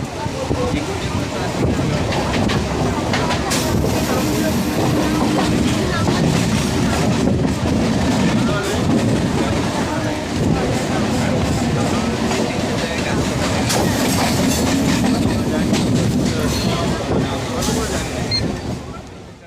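Howrah–Bardhaman Main Line local train rolling into Shaktigarh station in continuous rain, a loud steady rumble and rattle of carriages heard from on board, with rain noise and some background voices.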